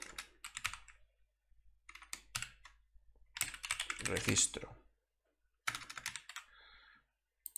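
Fingers type on a computer keyboard in quick bursts of crisp clicks separated by short pauses. Someone talks quietly between and over the typing.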